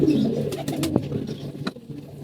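Pigeons sitting out in the sun coo in low, throaty rolling calls close by, with a few brief sharp clicks and rustles in between and no talking.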